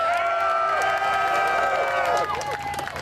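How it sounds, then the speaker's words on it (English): A large outdoor crowd at a marijuana march in Calgary cheers, whoops and applauds in a sustained, loud wash, with individual voices rising above the clapping before it begins to thin out. "I'd like to get a cheer and applause in their honor."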